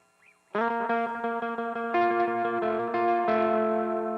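Electric guitar run through a 5150 amplifier used as a power amp, ringing out sustained distorted chords and notes with effects, loud and steady with no talking.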